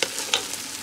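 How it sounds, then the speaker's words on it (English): Okra sizzling and crackling steadily in hot oil in a pan while cooking a Liberian fried okra sauce, a close, continuous fry with small popping bursts. "You keep frying it until it turns like this."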